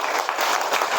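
A classroom group claps in a short dense burst of applause, many hands patting together close by for about a second.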